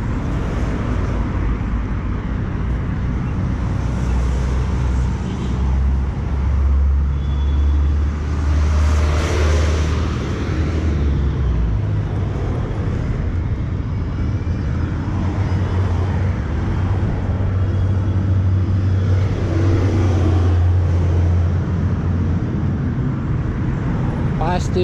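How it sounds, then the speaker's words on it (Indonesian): Steady roar of car traffic along a busy road near the Masjid al-Haram area of Makkah, with a constant low rumble of passing vehicles throughout. Faint human voices can be heard under the noise. "Pasti berisik suara mobil."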